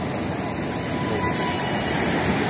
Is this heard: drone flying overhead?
yes